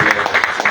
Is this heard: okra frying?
no